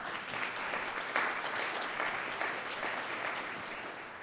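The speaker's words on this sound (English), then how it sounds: "You can give a round of applause for that." Steady applause from an audience at a club luncheon on hiring veterans, fairly soft and even, with no talking over it.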